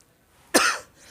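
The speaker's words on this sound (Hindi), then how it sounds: "खांसी बहुत गड़बड़ कर रही" A single short, sharp cough bursts out close to the microphone in an otherwise quiet room, fading quickly with a slight breathy tail.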